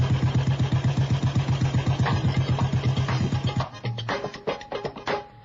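A Royal Enfield Bullet motorcycle engine thumps in a steady, rapid single-cylinder beat at close range, then cuts off abruptly partway through as music takes over.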